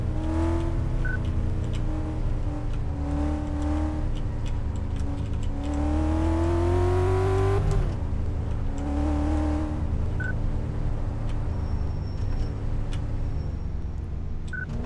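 An engine hums and revs during a test drive in Car Mechanic Simulator 2014, its pitch rising and falling across the run, with a car that has a whining noise as its fault; it is steady and close, with no voices.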